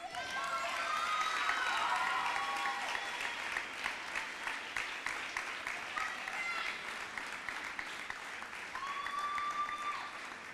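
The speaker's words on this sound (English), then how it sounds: "give it up one more round of applause" An audience at a school athletic awards ceremony claps steadily for several seconds, with a few cheers and whoops rising above the applause.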